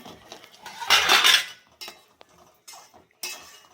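A metal spoon scrapes and clinks against a pot while chicken curry is stirred and sautéed, with one louder scraping burst followed by several short, sparse knocks and taps close by.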